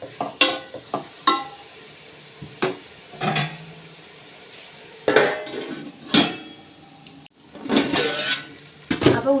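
Onion and green chilli sautéed in a pan for chicken curry: a soft sizzle beneath repeated loud clanks and scrapes of a metal spoon against the pan, irregular and close.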